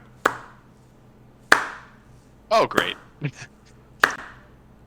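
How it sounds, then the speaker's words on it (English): Slow, sharp hand claps, three widely spaced single claps with a ringing tail in a quiet room, sounded during a tabletop role-playing game session as a character enters through a door, with a brief spoken exclamation between them. "the door to the south opens, and you hear a clapping"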